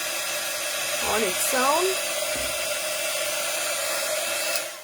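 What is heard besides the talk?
heat gun drying paint on a tea box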